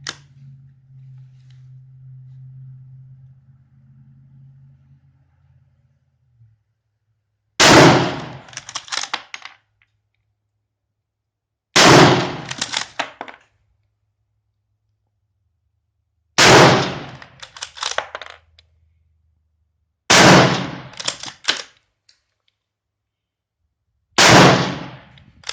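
French MAS 36 rifle in 7.5x54mm firing five loud, sharp shots at spaced intervals, each followed by a rattling metallic tail, after a low hum at the start.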